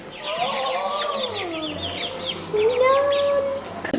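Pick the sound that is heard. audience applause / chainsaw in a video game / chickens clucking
chickens clucking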